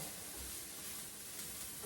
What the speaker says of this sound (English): So that's frying